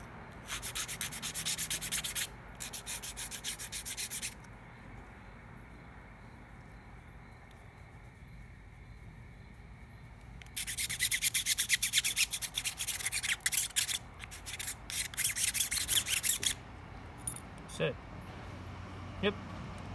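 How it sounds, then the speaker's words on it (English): Rough scraping on the rubber backing of a Brembo brake pad insulator from an ND Miata, several bursts of harsh rasping strokes separated by quieter gaps, close, with a person talking in between. "the rubber backing piece sounds almost like plastic"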